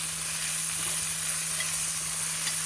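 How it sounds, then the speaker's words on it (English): Chopped onions and garlic sizzle in a risotto pan, a steady soft hiss of frying with a faint constant hum, unbroken and fairly quiet. "You can see the sizzling sound."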